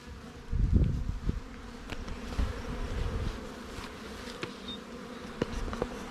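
Honey bees buzz steadily around an open Langstroth hive during an inspection, a dense close drone with a few louder low bumps and handling knocks near the start.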